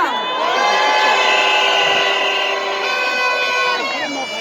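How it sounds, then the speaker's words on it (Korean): Crowd at an outdoor candlelight rally cheers and whoops, with loud sustained voices, high shouts and a whistle-like tone ringing over the throng for several seconds. "박수 한번 다시 보내주시기 바랍니다"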